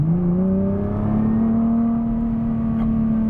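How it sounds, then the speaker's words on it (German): A Nissan GT-R with automatic gearbox accelerates at full throttle after a kickdown, its engine drone climbing steadily in pitch, loud and close from inside the cabin, with no gear change heard. "Ich demonstriere es jetzt, ich gebe jetzt Vollgas"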